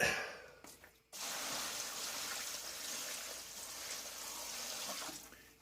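Excess water being poured out of a container during work on a home water treatment system, a steady continuous splashing pour lasting several seconds after a brief pause.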